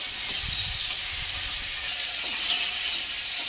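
Chopped tomato frying in a pan for a Bengali potol (pointed gourd) recipe, giving a steady, even hiss and sizzle from start to finish, close and moderately loud, with no talk.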